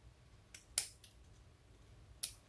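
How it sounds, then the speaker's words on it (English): Scissors snip a small strip of ribbon for a Christmas card craft: three or four sharp, quiet cuts spaced unevenly over a couple of seconds, with no voices. "I just cut a little strip of ribbon."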